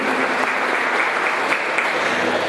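A church congregation applauds, a dense, steady wash of clapping from many hands filling the room at even loudness for a couple of seconds.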